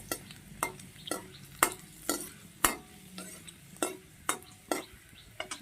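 A whole head of garlic frying lightly in a pan, with a steady soft sizzle broken by about a dozen sharp metallic scrapes and clinks of a spoon against the pan at an irregular but steady rhythm, close by and without speech.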